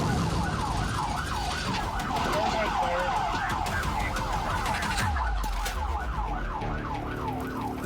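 A wailing police siren sweeping up and down repeatedly, loud and close, over the rumble of road traffic, during a police pursuit of a minivan with a flat tire throwing sparks.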